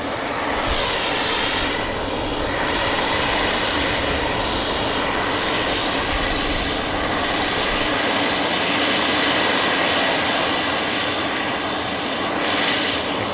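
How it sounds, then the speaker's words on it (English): A Pilatus aircraft departs an airport bound for Paris Le Bourget, its steady engine roar filling the air at a fairly loud, constant level with slow swelling tones throughout. "Heading to Paris Le Bourget, this Pilatus."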